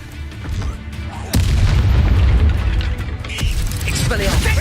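A Levioso spell cast in Hogwarts Legacy bursts out with a sudden loud magical boom over a busy game soundscape, followed by a rumbling, whooshing swell with a few brief chimes.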